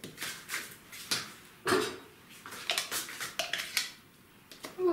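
Chopped eggplant, blended fine, gets stirred into a stuffing, with soft scraping and clinking of a utensil against a bowl in irregular strokes, close and fairly quiet, with no talking.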